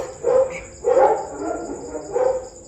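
A dog barking three times in a steady rhythm, close and clear, with a faint high tone in the background.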